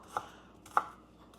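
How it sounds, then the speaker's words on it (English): A knife chops through onion on a board for a honey cold and flu remedy: two crisp, close chops about half a second apart over a quiet background. "you're definitely going to give it a good chop"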